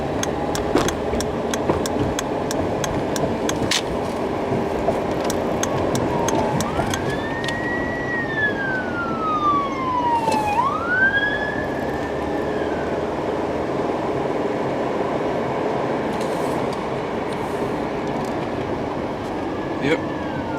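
Engine 3, a fire engine, passes with its siren wailing up and down and sweeping in pitch as it goes by, over steady traffic rumble and background voices.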